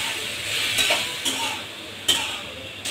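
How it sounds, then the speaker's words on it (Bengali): Vegetables tossed with soy sauce in a frying pan, giving a steady close scraping hiss with a few sharp utensil taps against the pan, no voices. "দিয়ে দিচ্ছি সয়া সস, এখন ভালো করে একটু নেড়ে দিচ্ছি।"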